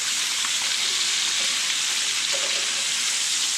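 A sous vide duck breast sears in a hot pan, a loud, steady, close hiss of fat sizzling without pause.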